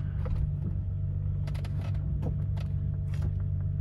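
A 1986 BMW 325e with its 2.7 engine idles in a low, even rumble up close, a smooth running drone with a few light mechanical clicks and no talking.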